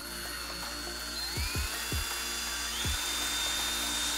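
A power drill whines at a high pitch while boring a hole in a Harley crankcase breather cover, its tone shifting as the bit bites, with a few short knocks from the workpiece.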